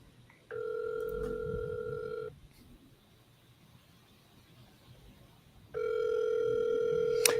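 A telephone dial tone on a repeated call attempt: a steady electronic tone for about two seconds, a quiet gap, then the tone returns and holds to the end, clear and close.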